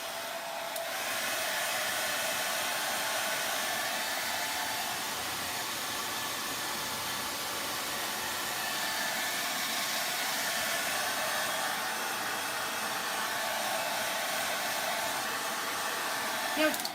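A hair dryer blows steadily and close, drying fresh paint on a jewelry box, its even whooshing hiss running unbroken for the whole stretch with no talk over it.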